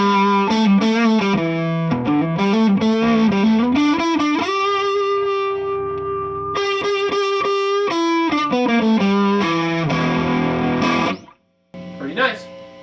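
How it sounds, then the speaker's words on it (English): A distorted electric guitar through an MG Pro Series 1270 amplifier plays a crunchy, growling riff with chords and sustained notes, loud and close, ending with a short pause and a final strum. "I love that sound, deep and growly, perfect rhythm crunch sound."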